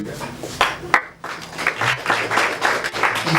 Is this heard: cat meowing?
no